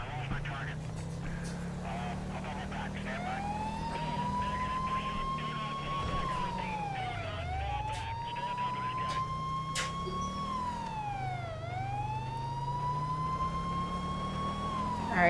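Police car sirens in GTA 5 with the LSPDFR mod: a wailing siren sweeps slowly up and down in long cycles over a low engine drone, fairly near and steady, with a few sharp clicks.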